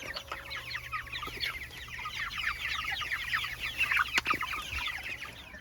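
Chickens cluck steadily in a farm coop, a dense, busy flock chatter running throughout at close range, with a few sharper calls and a brief knock near the end.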